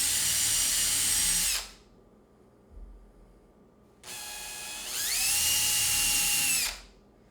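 Power drill driving into wood while pilot holes are drilled and screws driven for a drawer slide under a kitchen sink cabinet, two loud whining bursts with a rising pitch in the second, separated by a quiet gap.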